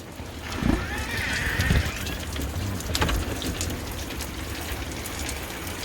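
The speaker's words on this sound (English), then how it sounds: "The rain is really coming down." Heavy rain pours down steadily during a severe April storm with rising wind, a dense continuous hiss of drops with a few louder gusts and thumps.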